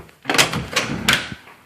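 A door in a house is worked open, with a few close rattling clacks of the latch and handle and then a short scrape and knock, with no talking.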